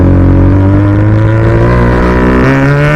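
A KTM Duke 200 motorcycle's exhaust revs loud and close, one steady engine drone that climbs slightly in pitch, dips and picks up again near the end, with no voices over it.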